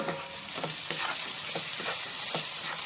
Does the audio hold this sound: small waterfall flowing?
no